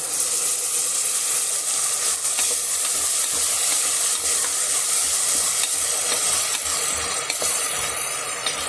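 Coriander, mint and kasuri methi paste frying in a pan for chicken biryani, a steady loud sizzle and hiss with occasional stirring scrapes, no talking.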